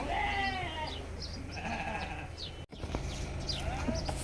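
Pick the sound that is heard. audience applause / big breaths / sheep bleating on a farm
sheep bleating on a farm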